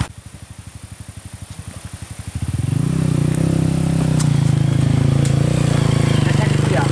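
A trail motorcycle engine idles with a fast, even putter, then is revved up and held at a steady, louder drone, close by, with people talking over it.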